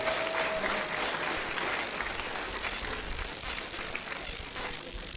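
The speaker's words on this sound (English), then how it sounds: "Give them a round of applause, please." An audience at a university World Environment Day event claps in a sustained, dense round of applause that fades slightly toward the end.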